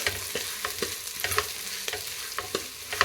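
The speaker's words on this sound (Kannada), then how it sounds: "ಇದೊಂದು 2 ನಿಮಿಷ ಚೆನ್ನಾಗಿ ಫ್ರೈ ಆಗಲಿ" Sprouted horse gram fries in a tempering in a pan, with steady sizzling broken by repeated scraping stirs at an irregular, brisk rhythm, close and clear.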